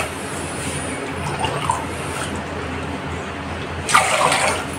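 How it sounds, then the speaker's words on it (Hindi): About three glasses of water run into a cooking pot in a home kitchen, a steady close rushing splash that grows louder and brighter near the end. "पतीले में 3 ग्लास के करीब पानी ऐड कर देंगे।"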